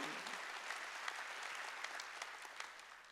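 Church congregation at a Wednesday worship service bursts into applause, a soft, steady wash of many hands clapping, distant and fairly quiet, lasting a few seconds without talk.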